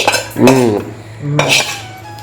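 Fried ingredients for an apple chutney are scraped and tipped into a stone mortar with a metal spoon, giving bright clinks and scraping knocks over steady background hum.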